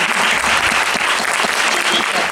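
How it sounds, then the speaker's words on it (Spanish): Audience at a festival panel applauds steadily, a dense, loud burst of clapping from many hands throughout. "¿Yo le puedo pedir un aplauso para mí?"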